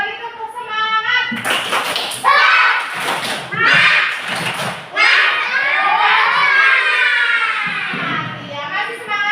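Indonesian schoolchildren in a classroom performing the tepuk semangat clapping chant, with loud bursts of rhythmic claps and thumps mixed with shouted chanting voices, close and energetic.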